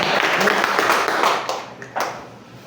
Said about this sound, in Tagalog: Palakpak para sa Dios.